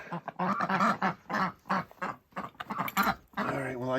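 Ducks quack and honk in rapid, overlapping bursts, loud and close, a noisy chorus of calls with barely a pause.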